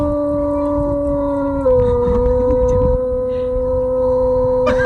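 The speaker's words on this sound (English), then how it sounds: "the dog just appears to be complaining" A dog howls and whines in long, sustained wavering tones while an electronic hum runs steadily in the background, with no talking over it.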